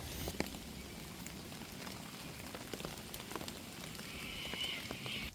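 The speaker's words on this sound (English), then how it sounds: "I think the rain's not really going to go away" Steady rain falls during Cyclone Alfred, a dense continuous patter with scattered louder drops throughout, and a faint high bird call rising near the end.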